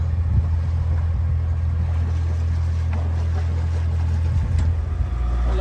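A small outboard motor on a sailing boat off the coast of Greece drones steadily with a low, constant rumble, close by, running without pause throughout.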